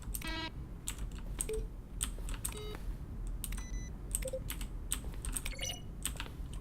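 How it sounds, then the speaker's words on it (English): Button presses in the video game The Stanley Parable come through as quick keyboard keystrokes, a string of sharp clicks at an irregular pace with a few short electronic beeps mixed in, all over a low hum. "Throughout the game, when buttons are pressed, each sound is a keyboard stroke."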